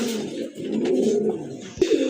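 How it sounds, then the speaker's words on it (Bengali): Domestic deshi pigeons give a soft, steady cooing close by, a low throaty call that carries through a short stretch with no voices. "আরেক জোড়া দেশি কবুতর মাশাআল্লাহ খুবই সুন্দর"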